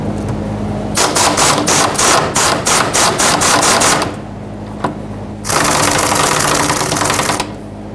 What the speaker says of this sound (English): I'm going to remove this 13 millimeter bolt